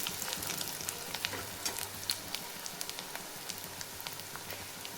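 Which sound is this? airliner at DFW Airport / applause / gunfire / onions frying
onions frying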